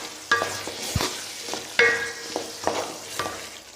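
A spoon stirs coriander through sizzling baingan bharta in a pan, close scraping strokes repeating about every half second over a constant frying hiss.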